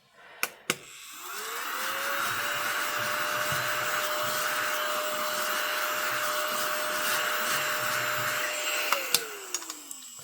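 A Hoover vacuum cleaner switches on with a rising whine, holds a loud steady motor drone with airy rush for about eight seconds, then winds down, with a couple of sharp clicks at the start and end.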